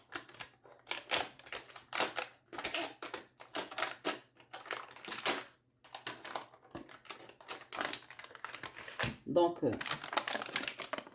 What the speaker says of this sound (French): Je vais couper le beurre en petits dés.